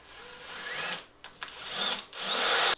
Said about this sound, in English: So let's drill a hole in here and see if they chatter. All right, 4 millimeter drill.